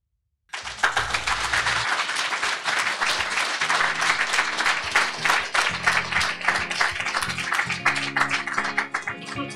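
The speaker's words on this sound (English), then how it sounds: "Didn't get the mute off in time, so you could hear all the applause in the room." Audience applause in a conference room at a tech summit, a loud, dense burst of clapping that starts abruptly and continues steadily for about nine seconds with no talk over it.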